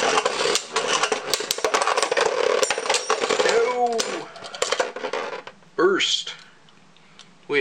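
Beyblade Burst tops, a stock Driger against AuraDragoon, clash in a stadium with rapid metallic clicks and rattling scrapes, then a sharp burst of collisions near the end as they knock together, with a voice speaking between impacts.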